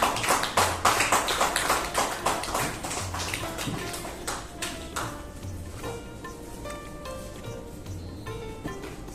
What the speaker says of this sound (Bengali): জোরে হাততালি হয়ে গেছে।